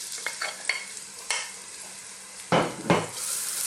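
Onions drop into hot sunflower oil in a large pan, giving a few clacks and then two loud bursts of hissing sizzle that ease into a softer crackle, close and with no talking.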